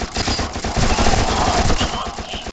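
A PPSh-41 submachine gun in the shooter game You Are Empty fires one loud, continuous burst of rapid shots lasting a couple of seconds, then stops abruptly.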